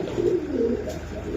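Feather-footed Pakistani pigeons kept for sale give a short, near, throaty coo with wavering rises and falls, heard alone.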